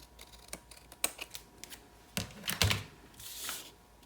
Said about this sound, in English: I'm going to cut off the extra paper that's hanging